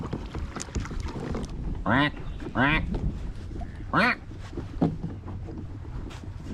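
Ducks quack loudly several times in short bursts, close by, over steady outdoor wind and water noise, heard from a kayak on a lake.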